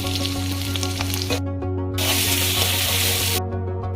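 Onions fry in hot oil in a pan for an Assamese fish dish with a loud, close sizzle and crackle. The hiss flares in bursts as the onions are stirred, with a steady hum beneath and no talking.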